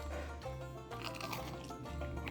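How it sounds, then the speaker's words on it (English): A bite into a crisp fried green tomato coated in cornmeal and panko gives a close, crackly crunch followed by chewing, fairly quiet over a steady low background hum. "Hear the crunch."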